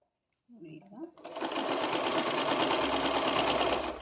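A sewing machine stitches the side cut of a churidar. After a few soft handling clicks and a short voice, the motor starts up into a loud, continuous, even whirr that holds steady to the end.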